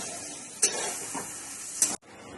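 Cauliflower coated in ground paste is stirred in a pan, giving a steady soft sizzle with two sharp utensil clinks against the pan and a brief break near the end, with no talk.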